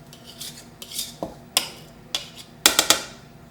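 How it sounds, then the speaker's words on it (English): A spatula or spoon scraping the sides of a bowl of cupcake batter, a series of short sharp clinks and scrapes against the bowl, about nine strokes in uneven rhythm, close and fairly crisp. "So I'm going to, again, scrape the sides to get everything."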